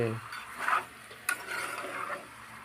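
Chicken curry stirred in a pan on a village stove, soft scraping strokes and a sharp metal clink against a quiet sizzle, with brief low talk at the start.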